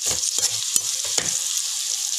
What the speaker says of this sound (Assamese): তাৰপিছত ইয়াত শুকান জলকীয়া দি দিম তেলতে।